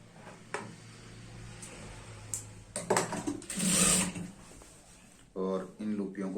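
Sewing machine stitching a girl's skirt in short bursts of running noise, the loudest stretch in the middle, with a voice talking nearby before and after.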